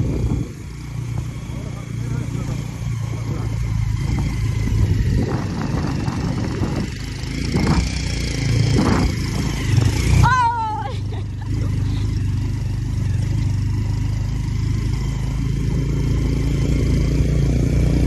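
A motorcycle engine drones steadily up close throughout, near the Dhangdhange waterfall, with people talking over it and a brief high squeal partway through.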